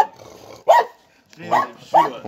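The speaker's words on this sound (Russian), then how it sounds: "Ну какая собака, да?" A dog close by gives several sharp barks with growly edges in quick bursts separated by short pauses.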